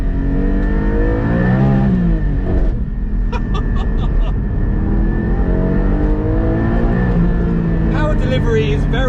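Porsche 718 Cayman GT4 with a naturally aspirated flat-six pulling hard from inside the cabin, a loud continuous engine roar that rises in pitch through the revs, dips at a shift and climbs again.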